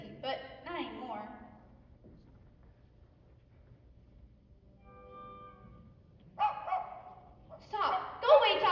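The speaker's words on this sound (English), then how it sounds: "Stop. Go away, dog." A dog barks in a school stage production of Tuck Everlasting, a burst of yips near the start and more barking later, interleaved with voices talking.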